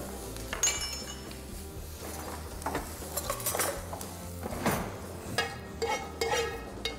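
Onions being stirred in a pot in a Greek home kitchen during a Christmas cooking livestream: repeated metallic clinks and scrapes of a utensil against the pot, irregular and close, with a low background hum.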